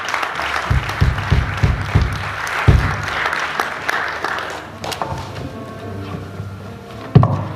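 A church congregation claps during a consecration service, a dense, steady applause with a few sharper thumps standing out, fading slightly toward the end.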